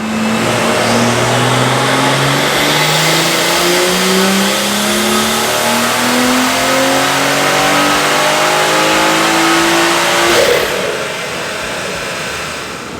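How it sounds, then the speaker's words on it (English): A BMW F30 340 turbo engine revs steadily upward through the gears for about ten seconds on a dyno, loud and close, then drops back to a lower drone. "the car is still adapting to the dyno and the fuel, and it just keeps picking up more power"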